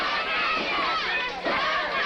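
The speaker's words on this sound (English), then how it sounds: "you could hear the crowd shouting, "Sissy, sissy, sissy,"" A wrestling crowd at a 1981 Georgia Championship Wrestling event roars and shouts a repeated chant, a dense, steady wall of voices filling the arena without a break.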